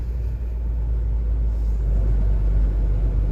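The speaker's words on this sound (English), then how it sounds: "That sound was the dump truck." A dump truck rumbling nearby outdoors, a heavy low engine drone that stays loud and steady without a break and with no voices.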